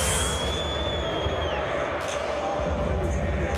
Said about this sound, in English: Crowd's booing, they're bringing it back.